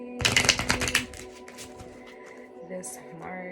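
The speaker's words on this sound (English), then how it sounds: "I gotta shuffle these cards in half because I got little hands and these are big ass cards" A quick burst of large, oversized tarot-style cards being shuffled in halves close up, a brisk riffling flutter lasting about a second, followed by quieter handling and soft talking.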